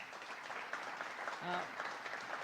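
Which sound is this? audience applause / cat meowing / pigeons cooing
audience applause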